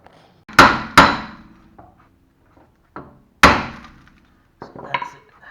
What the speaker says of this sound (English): let's go ahead and remove the bolt and try to hammer it very lightly to get this out